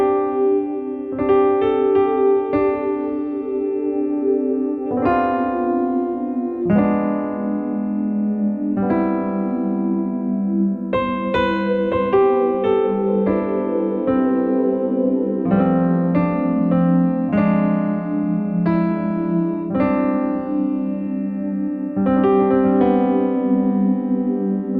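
Yamaha MODX8 synthesizer playing a factory piano patch layered with a soft sustained pad, loud and clear, with chords and melodic notes ringing over a warm continuous background, no voices.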